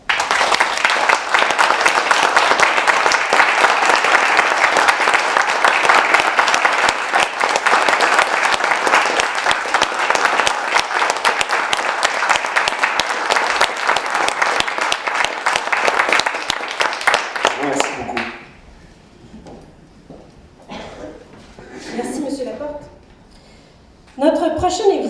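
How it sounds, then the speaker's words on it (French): Warm audience applause at a journalism award ceremony, the Prix Oliver-Asselin, sustained and loud for about eighteen seconds before fading out, followed by a speaker talking into the microphone. "je vous prierai d'applaudir chaleureusement"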